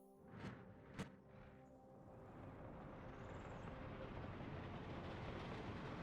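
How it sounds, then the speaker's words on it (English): A freight train hauling vehicles for scrap rumbles past after two brief horn-like swells, its rolling noise of wheels and wagons building into a steady broadband roar, fairly distant and without talk. "Looks like a pretty good train for scrapping vehicles, I would say."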